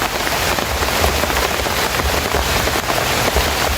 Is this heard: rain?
yes